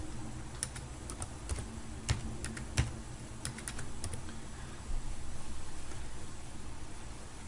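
Keys on a computer keyboard are tapped out in short irregular bursts as an IP address is entered, crisp close clicks over a steady background hiss.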